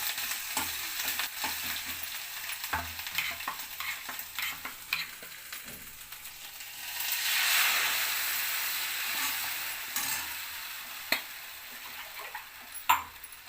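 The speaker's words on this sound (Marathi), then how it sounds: "चांगलं परतवून घ्यायचं" Spices, cloves, cinnamon, cumin, chilli, curry leaves and grated ginger sautéing in a pan for kadhi, a soft steady sizzle with scattered ticks and scrapes of stirring, swelling briefly midway before settling, no voices.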